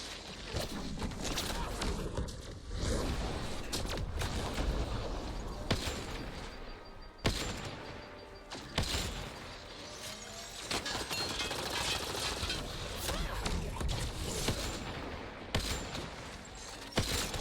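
Dense rapid gunfire and clattering combat effects from the video game Mass Effect Andromeda, with bursts and single shots layered over a busy soundtrack, and a voice occasionally speaking over the action.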